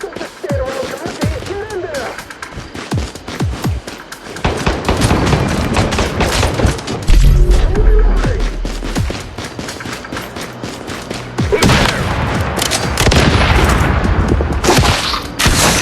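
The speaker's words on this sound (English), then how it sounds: "Open fire! Now!" Dense automatic and single gunfire from the Once Human zombie survival game, rapid bursts and heavy booms stacking into a loud, continuous barrage with no pauses.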